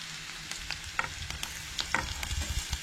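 Ginger, garlic and chilli frying in a pan for a Goan mud crab curry, with a steady soft sizzle and scattered stirring scrapes and taps close by.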